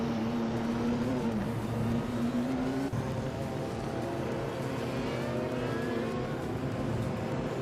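Race cars in a racing game roar off at the start of a race, a dense continuous engine drone with rising and shifting revving tones, steady and loud throughout without talk.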